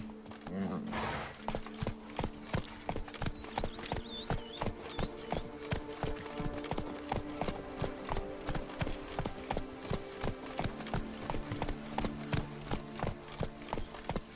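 Roach, a horse in The Witcher 3, trotting with rapid, evenly spaced hoof clip-clops that continue throughout, joined by a brief snort early on and a soft musical background.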